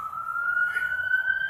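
A steady high-pitched police siren tone holds and slowly rises, heard at a moderate distance over low background rumble.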